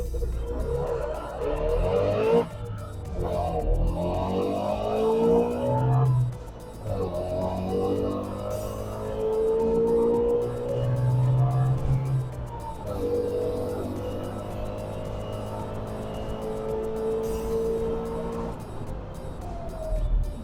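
A Trabant fitted with a swapped-in, stronger engine accelerates hard and close up, its gritty engine note rising steadily through the gears with brief dips at each shift, loud and continuous throughout.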